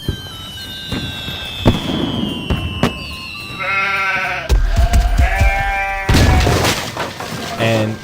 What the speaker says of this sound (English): Sparklers, like mini fireworks, go off right in front of their faces.